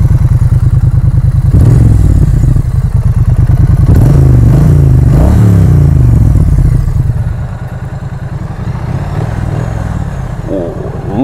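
A 900cc Triumph Street Twin motorcycle engine from 2016 idles loud and close with a steady low throb, blipping into a few revs before easing back to a quieter idle.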